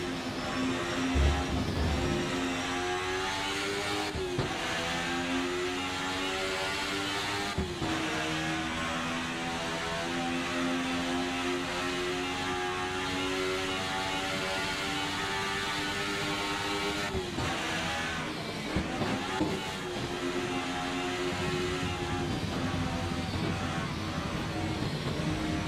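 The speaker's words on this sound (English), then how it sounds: "I really like that Sebring includes the concrete slab sound. The tires hitting the slabs." A race car circling Sebring in a sim racing game hums with a sustained engine drone, punctuated every few seconds by sharp thumps as the tires cross concrete slab joints.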